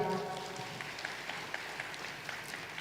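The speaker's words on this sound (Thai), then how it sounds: "ขอเสียงปรบมือดังๆครับ" An audience at a motivational talk in Thailand gives soft, distant applause, a faint and even patter of clapping that runs steadily from start to finish.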